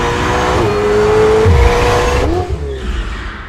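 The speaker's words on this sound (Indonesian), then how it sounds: "ternyata Joey sangat mahir dalam berkendara hingga membuat si sales sampai gemetar dan ketakutan" A car driven fast and skillfully roars loudly up close, its engine revving and shifting pitch as it accelerates, with a brief tire screech before the roar drops and fades.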